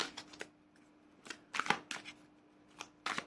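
Tarot cards being shuffled by hand before a cross spread reading, giving a few separate brisk riffling bursts with short pauses between, close and fairly quiet.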